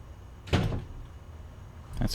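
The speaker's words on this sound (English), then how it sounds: "Door closing." A door closing in the video game Path of Exile, one soft thud partway in and a second fainter knock near the end, over a steady low game ambience with no talking.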